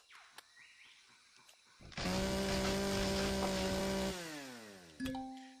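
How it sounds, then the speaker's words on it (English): A game chainsaw in Empyrion Galactic Survival revs up abruptly and runs as a loud, steady buzzing whine for a couple of seconds, then winds down and briefly revs again. "we're gonna chainsaw a lumberjack"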